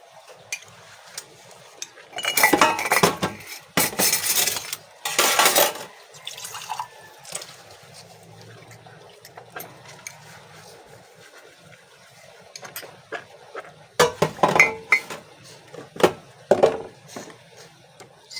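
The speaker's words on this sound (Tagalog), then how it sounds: "Maghugas lang ako ng mga pinagkapihan," Coffee cups and plates washed at a sink, with bursts of running tap water, splashing and light clinks of dishes coming and going, close and fairly loud with quieter pauses between.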